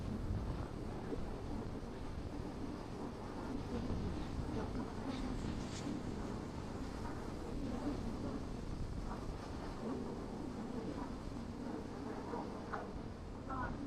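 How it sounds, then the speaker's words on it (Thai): Strong wind blowing dust across an open roadside near a river crossing where road work is under way, a constant rough rushing buffet against the microphone that never lets up. "เบิ่งลม"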